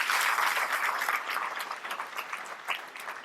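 Sustained applause from an audience at a Hindi-language lecture on Colonel James Tod by Jogeshwar Garg, held by the Chalkoi Foundation. A dense, steady wash of clapping that eases off slightly toward the end.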